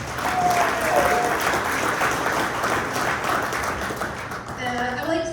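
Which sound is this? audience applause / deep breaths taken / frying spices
audience applause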